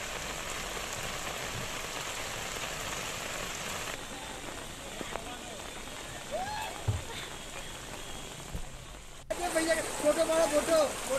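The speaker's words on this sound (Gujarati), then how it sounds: "હાલ પણ જિલ્લાના શામળાજી, પીલુડા, મોડાસા, ઇસરોલ સહિતના વિસ્તારમાં ઝરમર વરસાદ સાથે વરસાદી માહોલ યથાવત છે." Light drizzle falls in a rain-soaked district around Shamlaji and Modasa, a steady soft patter of drops on surfaces with a brief cut near the end before the rain noise returns slightly louder.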